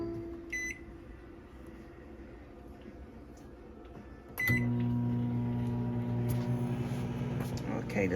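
A microwave oven melting cut-up margarine in a plastic container gives a short beep, then a steady loud hum from about four seconds on, with faint clicks over the running drone.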